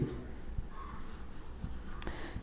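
Pen or pencil writing numbers on paper makes a faint, close scratching with small taps and strokes over a low background hum. It is quiet and continuous.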